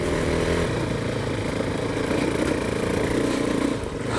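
KTM 390 Adventure single-cylinder engine droning at steady high revs while riding off-road through wet mud, loud and close with continuous rough exhaust and wind noise.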